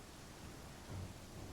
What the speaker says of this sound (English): Is it the rain that's giving them concealment?